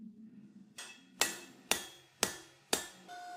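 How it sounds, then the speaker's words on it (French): A 4-pound doghead hammer strikes hot steel while forging a seax blade, landing five sharp, evenly spaced metallic blows over a low workshop hum. "Le marteau que tu m'as souvent vu utiliser est une doghead de 4 livres d'Ilia."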